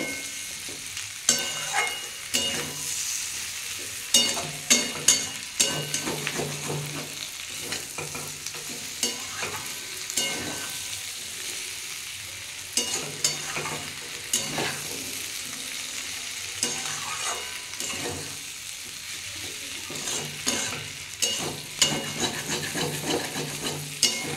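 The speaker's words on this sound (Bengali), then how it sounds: "আমি এগুলো এবার একসাথে ভেজে নেব।" Potato, beans, capsicum and raw tomato frying together in a pan, a steady close sizzle broken by frequent scraping stirs of a spatula, with no talking.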